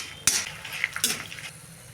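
Twelve dried red chillies frying in a pan over a low flame, a soft sizzle with a few sharp clinks and scrapes of a utensil against the pan, no talk.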